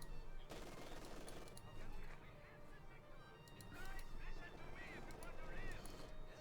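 Machine-gun bursts from an MG42 in the Company of Heroes 2 game roll in repeated clusters over a dense battle bed of gunfire and explosions, with someone talking throughout.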